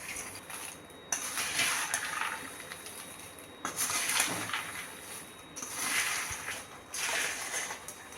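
Crunchy wheat puffed chivda, mixed with powdered sugar, is spooned into a serving dish. It sounds like repeated bursts of dry rustling pours with light clinks and brief quiet gaps between scoops.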